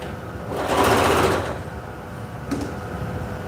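A sewing machine stitches over its pins in one short burst of fast, whirring needle strokes lasting under a second, followed by a quieter hum and a brief click near the end.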